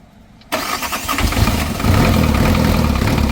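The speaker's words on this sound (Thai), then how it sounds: "ติดเลยครับทีนี้ โอ้เสียงเครื่องเงียบปิ๊บ" An old engine that had sat unused for a long time cranks and catches after a brief quiet moment, then settles into a loud, rough, steady idle.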